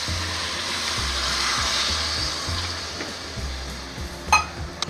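Water pours steadily into a pan of spicy chicken gravy with a soft, continuous rushing splash and a few light clinks near the end.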